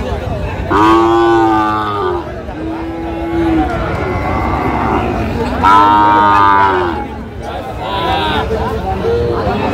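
Sahiwal cattle at a Noakhali livestock market giving loud, drawn-out moos in several separate calls close by, with crowd chatter and voices in the background.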